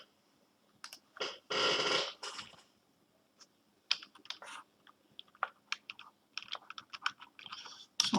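Typing on a computer keyboard, with irregular clicks and short bursts of keystrokes close by, plus a louder rustling burst early on, set against quiet gaps.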